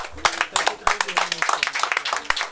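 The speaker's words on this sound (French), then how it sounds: "C'est SOS Racisme qui vient m'applaudir en première." Scattered audience clapping at a community committee event, uneven individual claps at close range rather than a full ovation, with voices talking over and between them.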